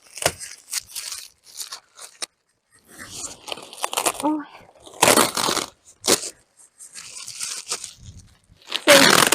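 Adhesive tape ripped outdoors in several short, crackling bursts, close by, separated by pauses and rustling of thin plastic film, with someone talking in Ukrainian in between.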